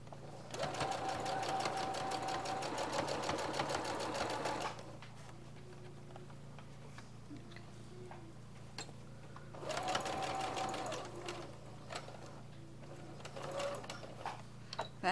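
A sewing machine stitches fabric for Christmas crafts in a long steady run, pauses briefly, then whirs again in shorter bursts, close and clear.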